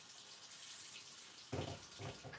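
Tap water runs into a sink while hands are washed, a steady hiss that grows fuller and splashier partway through as the hands move under the stream, close by.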